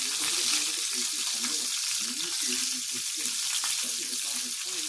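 Breakfast food fries in hot oil with a loud, continuous crackling sizzle and spatter close by, while a low voice murmurs faintly underneath.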